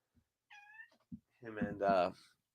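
A house cat meows at home: a short, tonal mew comes first, then a longer, louder meow, both close by. A person talks nearby.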